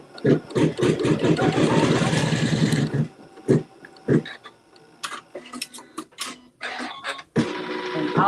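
Sewing machine stitching a seam on a mystery quilt with neutral thread, a run of rapid close stitching bursts followed by short intermittent starts and stops.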